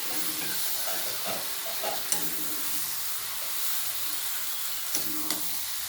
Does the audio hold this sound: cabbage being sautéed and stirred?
yes